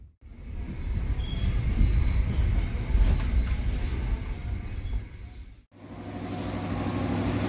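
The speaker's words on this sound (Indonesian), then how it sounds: "kereta api Supas sudah sampai di Stasiun Bangil" A KA Commuter Supas train pulls into Bangil Station, its loud rumbling wheels and carriage noise building and easing, with a brief drop before a lower steady hum resumes.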